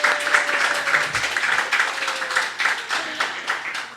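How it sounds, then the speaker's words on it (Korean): A Korean church congregation applauds during a Sunday service, with brisk, rhythmic clapping close by and a voice speaking faintly over it. "박수 다시 한번"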